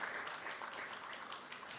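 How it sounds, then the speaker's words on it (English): An audience at a Caribbean Broadcasting Union media awards gala applauds, a steady, fairly faint wash of clapping from a crowd that runs through the short moment without a break. "You can clap for that"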